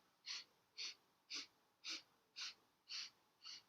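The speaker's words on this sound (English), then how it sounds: "So it's going to be 8 equal sniffs." Breath of fire during a Kundalini yoga stress set: seven even, sharp sniffs through the nose, evenly spaced and close, with quiet gaps between them.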